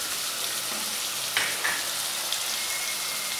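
Ground red chili, crushed red chili and turmeric fry in a pan for Hyderabadi chicken biryani, giving a steady close sizzle with a few faint stirring clicks and no talk.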